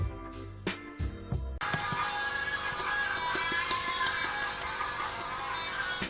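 A few short musical notes, then continuous rattling and irregular clunking as cream turning into butter is shaken hard inside a jar, fairly close.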